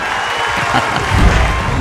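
Crowd applause in a dubbed movie scene, a dense steady patter of clapping hands filling the short stretch, loud and close with no pause.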